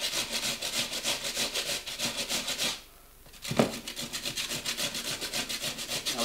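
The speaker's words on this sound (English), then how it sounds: "the first step we're going to do is grate some potatoes." Potatoes grated by hand for kugelis, a fast rhythmic rasping of strokes up close, with a short pause midway before the grating resumes.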